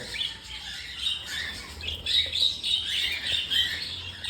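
Pet cockatiels, a pied cock and hen, give bright, raspy squawks and chirps in repeated bursts, fairly close and moderately loud, with no one talking over them.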